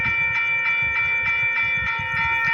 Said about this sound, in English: I heard train horns, and I wonder which way they're coming from.